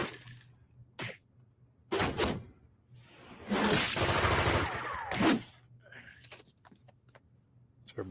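Bursts of rapid machine gun fire ring out in the City of Heroes video game, several separate rattling volleys with one longer sustained burst in the middle, loud and close with quiet gaps between.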